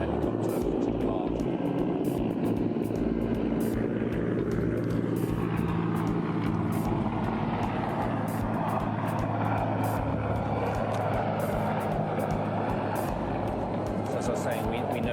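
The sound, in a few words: helicopter departing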